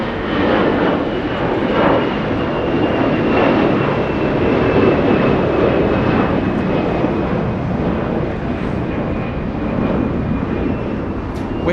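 A Swiss airliner arriving from Zurich touches down at Los Angeles International Airport after an eleven-hour flight, its engines a loud, steady roar with broad rumble and a faint whine held throughout.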